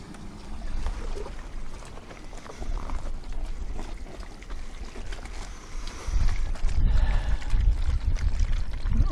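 A tank wand sprays water inside an RV black holding tank during a flush, a steady close hissing, gushing rush that grows louder and heavier toward the end.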